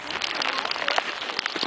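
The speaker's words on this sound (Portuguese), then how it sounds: "É uma mistura de neve e chuva. Caindo." A mix of snow and rain falls in a snowy mountain setting, a dense, close patter of drops hitting the surface continuously, fairly loud with no clear talking.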